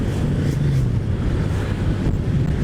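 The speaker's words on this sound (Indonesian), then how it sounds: "suara angin ini kenceng banget nih" Strong wind buffets an action camera's microphone during a motorcycle ride toward Puncak via Parung, a loud, continuous low roar that rumbles and gusts without pause.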